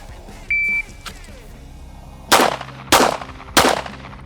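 Pistol fired in a Mozambique drill without sights, a shot timer beep then three loud sharp shots in quick succession about half a second apart, each ringing briefly.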